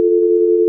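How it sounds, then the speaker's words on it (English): A steady, loud single-pitched telephone dial tone humming continuously without a break. "We got the dial tone, the good old dial tone"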